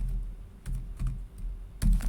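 Someone types a short name into a computer keyboard, a handful of close, crisp key clicks in small bursts with brief pauses between them.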